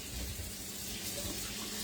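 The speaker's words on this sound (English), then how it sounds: "I'm just gonna run some water over it so I can get the pack off of it" Tap water runs steadily from a faucet into a kitchen sink over a frozen package of pork, a constant moderate splashing hiss that continues without a break.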